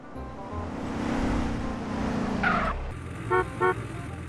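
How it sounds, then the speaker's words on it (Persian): A car approaches along a city street with a rising, swelling road rumble and tyre rush that builds then passes, followed by two short high tonal beeps near the end. "اوه بچه اونجا رو چه ماشینی داره میاد؟"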